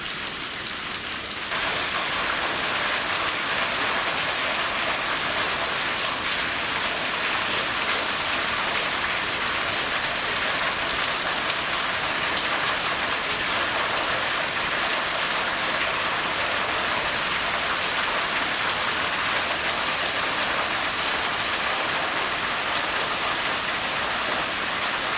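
Flowing water of Register Creek in the Tuolumne River canyon, a steady broadband rush that runs close and constant through the whole stretch without any voices.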